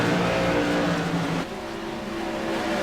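Modified race cars approach on the Rockingham Speedway oval in fog, their engines roaring loudly and steadily, with a pitch shift midway as the pack draws near and passes.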